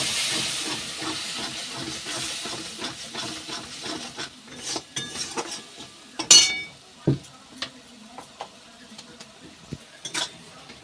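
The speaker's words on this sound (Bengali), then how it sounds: "দিয়ে আবার ভালো করে কষে নেব" Spice paste with a splash of water fries in a pan for pumpkin and prawns, first a loud hissing sizzle, then fading to a quieter crackle broken by sharp, close stirring clatters of the spatula.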